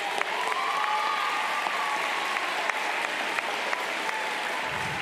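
Steady applause from a graduation audience honoring school staff at a high school commencement, a dense, continuous wash of clapping with a faint voice or whistle rising briefly above it.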